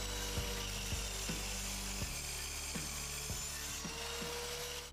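A Parkside saw cuts a clamped piece at a 45-degree angle, giving a steady mechanical whir with repeated sharp ratcheting clicks spaced through the cut, close and fairly loud, with no talk.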